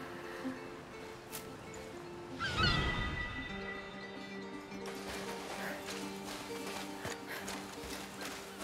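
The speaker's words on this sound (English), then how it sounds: "We call them laughing gulls here." Laughing gulls call in A Plague Tale: Requiem, a cluster of sharp, honking cries rising near the middle of the clip over a steady game ambience and low background tones.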